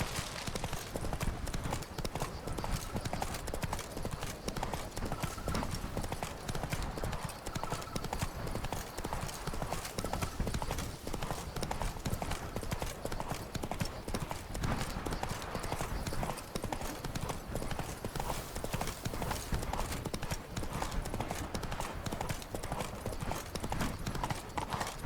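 The horse Roach galloping in The Witcher 3, rapid rhythmic hoofbeats pounding steadily throughout, close and loud, with occasional faint voices under the gallop.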